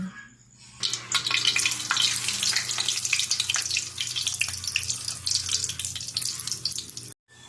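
A single piece of food fries in a pan for a late home dinner, giving a close, continuous crackling sizzle with sharp pops that starts suddenly and stops just before the end.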